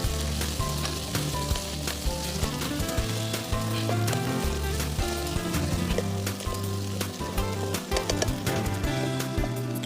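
Crushed red chili and spices sizzle steadily in hot oil, a dense continuous frying crackle with scattered pops, close and loud, with no voices.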